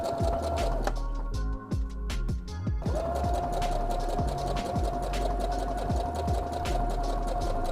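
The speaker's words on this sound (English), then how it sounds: "I'm sewing the pockets onto the side seam." A sewing machine stitches pockets onto the side seam of a half-circle skirt, running in a steady rapid whir with a brief pause and restart, close and loud.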